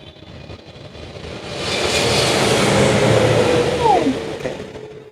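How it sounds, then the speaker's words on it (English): An airplane flies over near an airport, its engine roar swelling from faint to loud and steady over a few seconds, then easing slightly, heard from indoors with a faint voice at the end. "So I can hear the sound of airplane first, and then Makara hears later."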